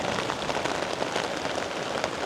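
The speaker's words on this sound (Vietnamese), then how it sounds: "Mưa gió," Rain pours over a bonsai garden, a constant close hiss of drops striking leaves and surfaces, heavy and unbroken throughout.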